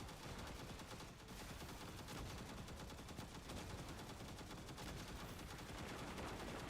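Big guns hammer away in Destiny 2, a steady, dense barrage of rapid gunfire with no pause, heard faintly as a continuous rattling roar.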